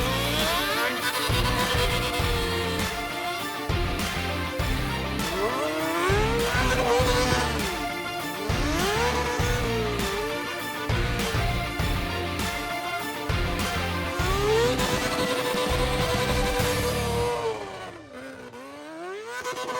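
A homemade go-kart powered by a 2005 Yamaha R6 motorcycle engine of about 120 horsepower runs hard, revving up and down in repeated high-pitched sweeps, loud and steady, then cutting off near the end.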